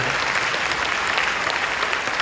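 A church congregation gathered at a large convention hall in Busan gives sustained applause, a dense, even wall of many hands clapping close and loud throughout.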